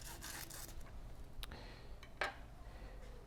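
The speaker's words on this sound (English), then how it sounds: "with your brush get in here and scrub and clean the screen." A brush scrubs the screen of an E61 espresso machine group head with soft, raspy rubbing strokes, a few quick bursts followed by quieter scraping and a small clink.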